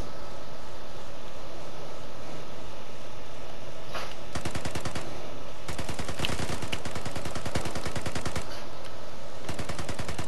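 Automatic gunfire in the shooter game Vigor: several long, loud rapid-fire bursts separated by short pauses, over a constant background hiss, with no talking.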